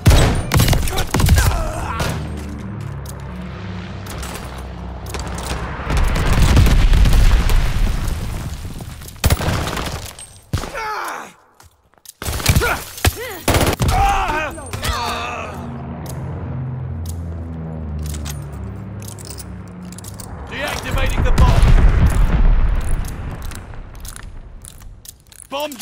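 Game battle audio from Call of Duty: Vanguard on a wintery map, with repeated heavy booms and rumbling blasts of a bombing run rolling in waves, loud and dense, separated by a brief lull before another barrage.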